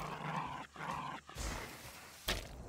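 A dog growling and snapping as it bites in the survival video game DYSMANTLE: rough, close growls in two bursts, then a sharp snap, with no talking.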